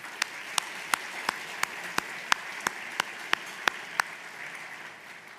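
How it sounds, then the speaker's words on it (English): Applause for Hall of Distinction inductees at a conservation district annual meeting, heard as a soft steady wash of distant clapping from the audience, punctuated by about a dozen sharp, evenly spaced louder claps close by. "let's give these gentlemen again another round of applause"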